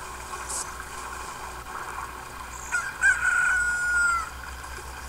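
Cuccos from the Zelda Ocarina of Time video game crow and cluck in a short rising call with a couple of squawks, heard alone over a steady game background hum.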